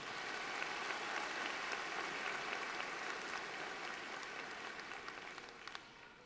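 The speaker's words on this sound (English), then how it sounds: "Please give a round of applause for the many dedicated years of service" Sustained applause from a large crowd fills a high school graduation ceremony, a dense even patter of clapping that slowly tapers toward the end.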